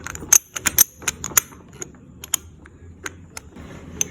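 A torque wrench being tightened to 30 pound-feet gives a run of sharp, irregular ratcheting clicks, close and fairly crisp, with quieter mechanical ticks between them and no talking.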